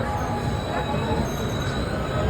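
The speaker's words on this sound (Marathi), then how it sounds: "फायनली 2 तासानंतर आमची ट्रेन आलेली आहे" A long-distance express train pulls into a Mumbai station platform, its wheels giving a steady, loud metallic grind and squeal against the rails under continuous rumble, with a thin high whine sustained throughout.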